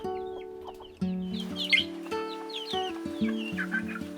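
Chickens in a chicken tractor coop cluck and call close by, a busy run of short overlapping clucks with a few louder squawks and no talk.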